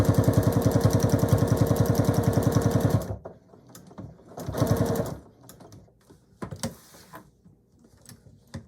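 Sewing machine stitching a DIY handbag, with a fast, even run of close stitching for about three seconds, a shorter burst after a pause, and faint handling clicks between.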